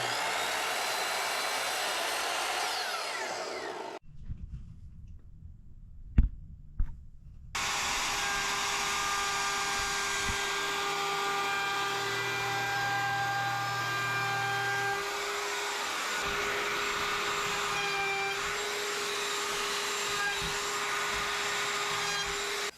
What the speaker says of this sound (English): now the top and bottom of this entire outside edge here has been routed and rounded off